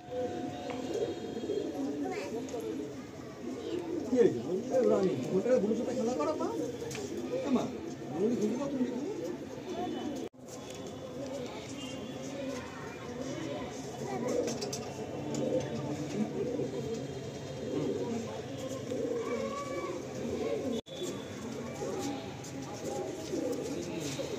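Prize racing pigeons cooing softly in a dark loft in Sonarpur, Kolkata, low murmuring calls repeating under a person talking.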